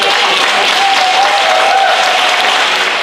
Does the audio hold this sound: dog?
no